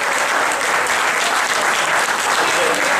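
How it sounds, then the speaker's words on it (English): An audience at a Hall of Fame junior class induction ceremony bursts into loud, dense, sustained applause that holds steady throughout. "How about a big round of applause for my friend from Connecticut, Dr. Bill Schmidt"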